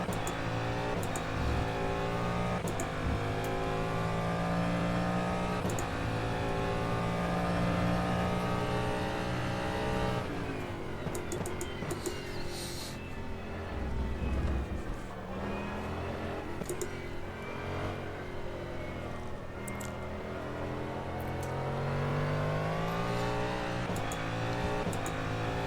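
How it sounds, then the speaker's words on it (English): An electric race car engine in rFactor 2 whines and drones at low revs, pitch sliding up and down through gear changes, continuous and fairly loud with no talking. "Very low revving engine, or it's just the sound of that whining"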